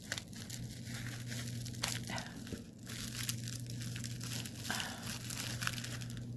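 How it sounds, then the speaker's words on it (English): A small cross-stitch tool is pried out of its snug plastic packaging, giving close, irregular bursts of crinkling and tearing plastic over a steady low hum. "If I can get it out of its little package."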